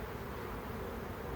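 A honeybee swarm gives a steady, dense buzz of many wings, close and constant throughout with no talking.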